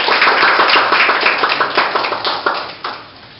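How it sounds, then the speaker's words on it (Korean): Audience clapping at a photography exhibition opening, a crowd of hands beating in a close, loud, steady patter that gradually thins and fades toward the end. "박수 한번 주세요."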